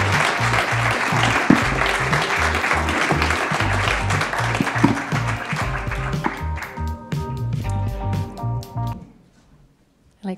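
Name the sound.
audience applause for prize winners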